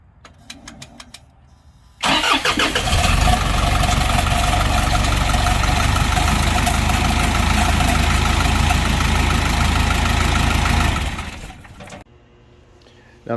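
A vehicle engine cranks and fires after eight liters of coolant go into the radiator, then idles loudly and steadily for about nine seconds before shutting off, with quieter workshop sounds at the start and end.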